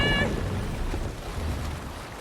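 Viking longship under sail on open sea in Assassin's Creed Valhalla: steady broadband wash of water and wind rushing against the hull, with a brief tonal whistle at the very start, continuous and fairly loud without speech.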